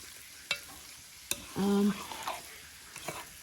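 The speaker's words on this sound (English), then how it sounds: "It's already cooked, so it only needs to cook a very short time in very extremely hot oil." Already-cooked food drops into extremely hot oil, bursting into a brief loud sizzle between a couple of sharp clacks of utensils, then settling into a softer crackle.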